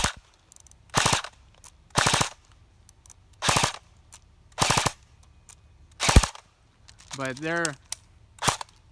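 A Cyma AKS74U airsoft gun fires BBs in short full-auto bursts, about seven rapid rattling strings spaced a second or so apart, loud and close, with someone briefly speaking between bursts.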